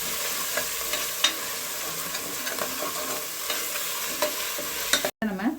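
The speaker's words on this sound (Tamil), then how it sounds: "இந்த பாசிப்பருப்பை நம்ம இதில் எண்ணெயிலே சேர்த்துருவோம்" Moong dal fries in hot oil in a pan while a spoon stirs it, cooking for a Ramadan nonbu kanji. A steady sizzle runs under scraping stirring strokes, with a brief cutoff near the end.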